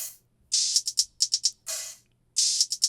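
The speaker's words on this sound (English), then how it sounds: "The hi-hats come in." Electronic-music hi-hats tick in short bright bursts and longer open sizzles, a sparse rhythmic pattern heard alone and fairly quiet.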